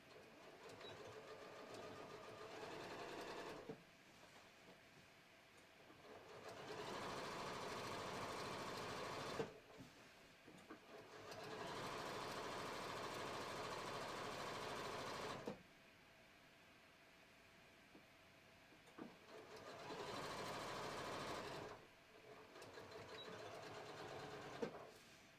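Sewing machine top-stitching down a folded fabric edge on a short sleeve, running in four long steady bursts of several seconds each with brief quiet pauses between, close and clear with no talking.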